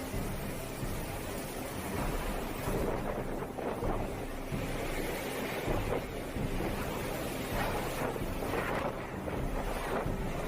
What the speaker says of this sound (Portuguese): vemos como o vento forte causa transtornos na área